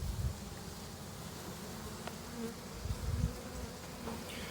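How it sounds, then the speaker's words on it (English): Bees swarming around an opened hive colony, fanning and buzzing in a dense, continuous hum close by, with a few louder passes as individual bees fly near. "So a lot more bees in this colony."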